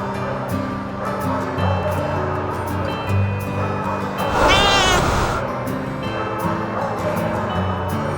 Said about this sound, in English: So let's go see some cats.